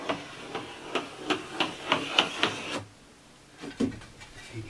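Screws driven into timber ceiling cladding inside a van: a quick run of evenly spaced mechanical rattling pulses, a brief pause, then two more short bursts, all close and fairly loud.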